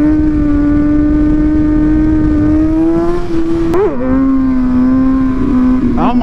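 A motorcycle ridden in the video game Call of Duty Black Ops Cold War, its engine giving a loud, steady droning tone that rises slightly and dips briefly with a quick rev, continuous throughout.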